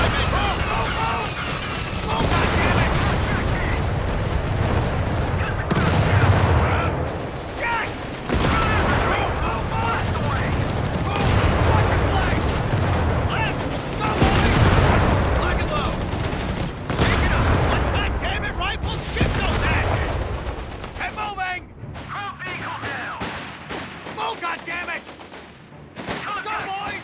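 Gunfire and explosions in the World War II strategy game Company of Heroes 3, dense bursts and booms running almost continuously under spoken unit orders and voices.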